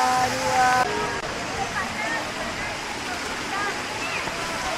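Curug Cilember waterfall gives a constant broadband rush of falling water, steady and fairly close, with faint voices and brief tonal sounds over it near the start.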